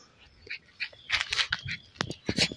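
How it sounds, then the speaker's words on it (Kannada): A lively male beagle puppy at play gives a string of short, high yips and whimpers, several quick bursts close by over about two and a half seconds. "ಸೊ ಮೇಲ್ ಪಪ್ಪಿ ಇವನು"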